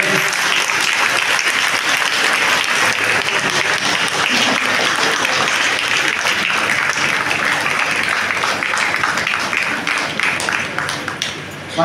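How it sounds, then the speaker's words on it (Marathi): A church congregation breaks into loud, sustained clapping, a dense wash of many hands that carries on for several seconds and thins out near the end. "सर्वांनी जोरदार टाळ्या मारायच्या आहेत"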